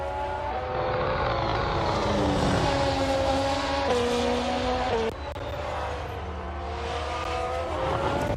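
A Toro Rosso race car in a game locking up its tyres, with a loud, steady engine whine whose pitch dips sharply around the lock-up before climbing again, heard close with no talk.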